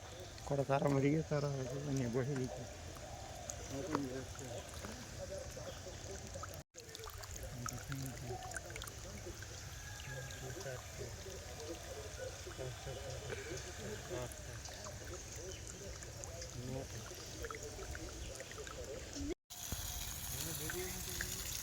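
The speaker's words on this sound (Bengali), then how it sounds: "আলু বাগান দিয়ে জল যাচ্ছে" Pond water gushes steadily through a potato garden in a constant, rushing flow, with voices talking briefly at the start and two short dropouts.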